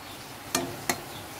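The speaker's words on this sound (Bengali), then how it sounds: "এবার আমি দেবো শুকনো গোটা লঙ্কা আর তেজপাতা ফোড়নটা একটু নেড়ে চেড়ে ভেজে নিয়ে" Dried whole chilies and bay leaves frying in hot oil give two sharp, crisp pops about a third of a second apart over a faint, quiet hiss.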